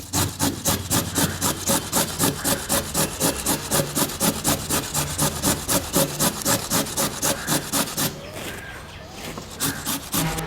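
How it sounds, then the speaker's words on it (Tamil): Carrots for carrot halwa, about a quarter kilo, are finely grated by hand in fast, evenly spaced rasping strokes, close and steady, with a short pause shortly before the end. "இந்த கேரட் இப்படி நல்லா நைஸாக திருவி எடுத்துக்கணுங்க"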